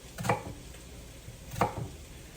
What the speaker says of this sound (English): And then chop, chop, chop, chop, chop horizontally.